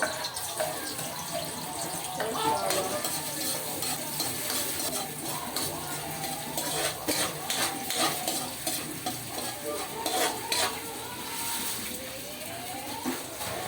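Garlic sautés in heated cooking oil for a crab in coconut milk dish, a steady soft sizzle broken by scraping stirs and clinks of the utensil against the pan, close and moderately quiet.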